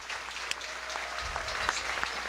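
Applause from a standing seminar audience, a sustained crowd of hands clapping at moderate level with faint talk buried underneath.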